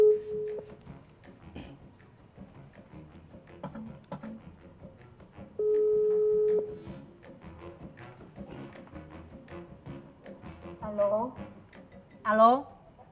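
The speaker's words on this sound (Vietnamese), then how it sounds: "cho liên hệ với lại anh Trúc Nhân đi em ơi" A telephone ringback tone plays while a call is placed: two long, steady electronic tones several seconds apart, with people talking and other sounds in between.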